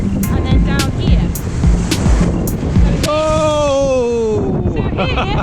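Sea waves wash steadily under strong wind buffeting the microphone, a loud continuous rushing roar, with a person speaking over it partway through.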